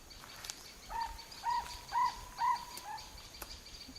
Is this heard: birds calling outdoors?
yes